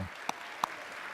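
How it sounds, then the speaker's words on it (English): Audience applause at a data-visualization conference keynote, a steady soft wash of clapping with a couple of sharper claps standing out, fairly faint and distant. "So we give him another round of applause."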